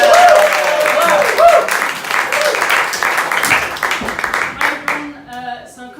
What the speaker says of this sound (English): So if you give her a round of applause.